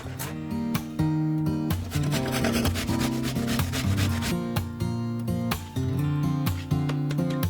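Zucchini and garlic rasp against a kitchen grater in quick, steady strokes, a close scratchy rubbing that repeats rhythmically without pause.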